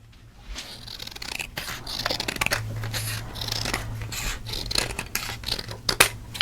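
Scissors cut through paper close up in a series of quick crisp snips and rasping slices, irregular but continuous, with faint rustling between cuts.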